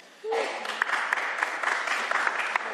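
A quiet round of applause from attendees at a governor's bill signing ceremony begins abruptly after a brief tone and continues as even, moderate clapping for a few seconds.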